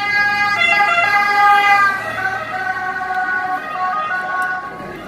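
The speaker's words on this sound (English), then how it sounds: "There's always ambulances here." An ambulance siren wails continuously near the Colosseum in Rome at night, loud and close, over a low hum of city traffic.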